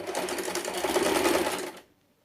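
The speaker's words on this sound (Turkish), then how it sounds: "Şimdi buradan böyle bir makine dikişi gidelim." A sewing machine rapidly stitching the waistband of a boy's shorts, a close, steady mechanical whirr lasting under two seconds before stopping abruptly.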